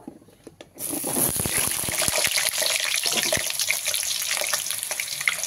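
Potatoes dropped into hot oil left from frying onions for a Bengali chicken curry, a faint clatter giving way to a loud, dense, continuous close-up sizzle with scattered sharp pops.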